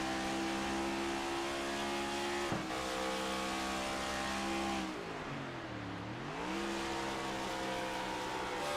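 A race car engine in iRacing during a Cup race at Nashville, a steady loud drone that dips and climbs as the revs drop and rise again, with no voices over it.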